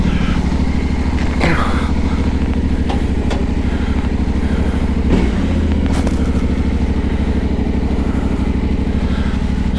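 A tall adventure motorcycle with heated grips idles steadily and loudly, its low engine rumble continuous, with a few light clatters and knocks on top.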